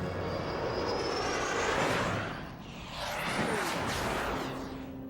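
A small aerobatic plane's engine drones and swells as it flies a mirror loop, its pitch rising and falling with a whooshing pass, fairly near and continuous without talk.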